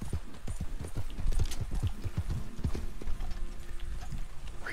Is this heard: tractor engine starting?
no